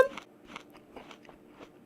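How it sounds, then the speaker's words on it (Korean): Cooked rice made with public restroom water is chewed with a surprisingly crunchy, snack-like sound, a few close, crisp bites in a steady rhythm at low level with no talk. "왜 밥을 먹는데 왜 과자 씹는 소리가 나"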